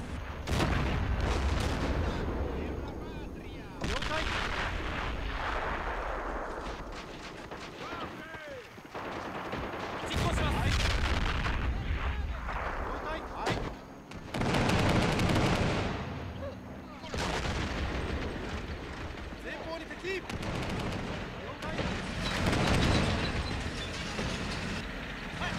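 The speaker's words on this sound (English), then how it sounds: "Okay, there's the arty." Artillery and mortar fire in the Men of War: Assault Squad battle game, repeated heavy booms and gunfire bursts with rumbling aftermath spread across the scene, loud and dense, with occasional talk over it.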